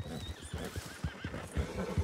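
A horse in Red Dead Online whinnies repeatedly while its hooves clop in a quick rhythm, close and clear with no talk over it.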